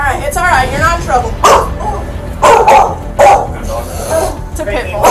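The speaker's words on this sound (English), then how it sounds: "It's a pit bull." Close, loud barking from a pit bull during an eviction, with several sharp barks and some whining yips in bursts, and people speaking between and over the barks.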